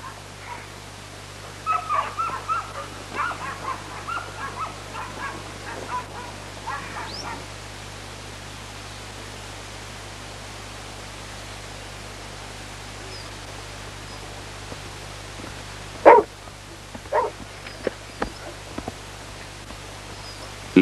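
Young herding dogs gathering a flock of sheep give scattered barks and yips in two bursts, fairly distant over a steady low hum, with quiet stretches between.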